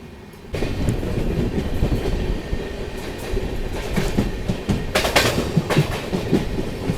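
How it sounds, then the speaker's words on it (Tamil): A Kacheguda–Madurai weekly superfast express rolls toward a station while slowing, its wheels sounding a steady, loud clickety-clack over the rails with a dense rumbling underneath and a few sharper clanks near the end. "ஸ்டேஷன் கிட்ட வர்றப்போ கொஞ்சம் ஸ்லோவாக தாங்க அப்ரோச் பண்ணுறோம்."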